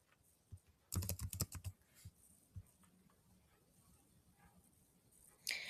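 Computer keyboard keys clatter in a quick burst of typing for an email and password, followed by a few scattered faint taps in a quiet room.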